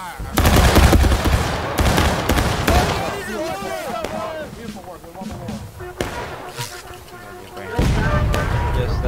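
A ragged volley of musket fire from a line of soldiers in the Civil War video game War of Rights, with several loud overlapping shots cracking in bursts, near and far, amid shouting voices.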